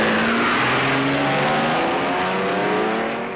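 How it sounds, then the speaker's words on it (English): A race car leaving the pits at Daytona during a 1960s endurance race, engine roaring at full throttle and pulling away through rising gears, loud at first then fading slightly as it departs. "The fuel line is swung out of the way, and Gurney goes out the leader."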